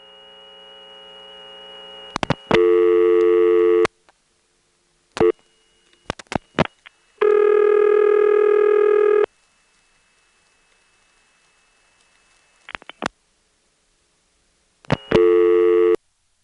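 Telephone line tones after dialing 91 on a GTE-owned NX2 crossbar exchange in Hahira, Georgia: steady hum, then repeated loud buzzing tone bursts of a couple of seconds each with clicks and silences between.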